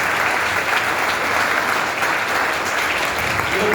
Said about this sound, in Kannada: ಇದನ್ನ ಹೊಡಿ ಚಪ್ಪಾಳೆ